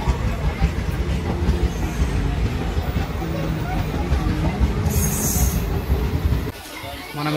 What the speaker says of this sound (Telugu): మనం వెళ్తున్న ట్రైన్ ఇదే అనమాట.